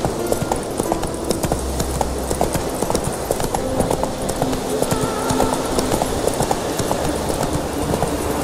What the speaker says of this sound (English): Roach is one magical horse.